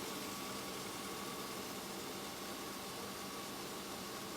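A Mercedes M110 six-cylinder engine with Bosch K-Jetronic fuel injection idles after a mixture adjustment, giving a steady, even hum with no rises or dips, heard close and without talk.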